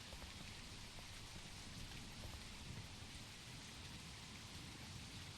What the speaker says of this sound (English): He's saying it's raining and no one's getting wet.